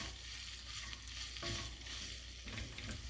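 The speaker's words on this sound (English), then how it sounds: "I'm going to add my hot links to the pan." Hot link sausages sizzling in a hot pan with olive oil, a steady, close frying hiss with faint stirring throughout.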